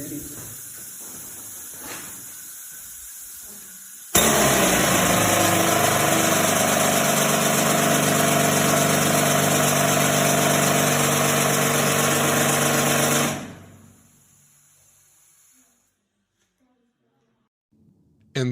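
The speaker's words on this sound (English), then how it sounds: "he actually turned on one of those old drills to give us the sense of how loud they were" A loud, steady mechanical roar with a hissing edge from an old pneumatic mining rock drill runs for about nine seconds, starting abruptly and then winding down into quiet.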